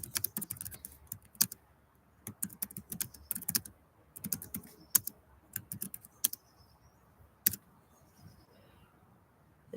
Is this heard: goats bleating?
no